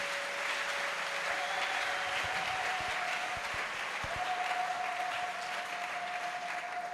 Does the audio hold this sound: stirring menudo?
no